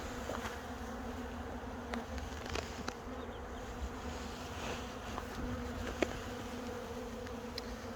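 Honey bees buzzing steadily around an open hive during a spring colony check before a move to rapeseed, a dense continuous drone with individual bees passing close now and then.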